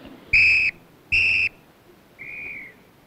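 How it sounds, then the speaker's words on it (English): Three short whistle blasts are sounded as a signal. The first two are loud, clear and evenly spaced, and the third is softer and slightly longer, in a quiet setting. "Three whistles, so what?"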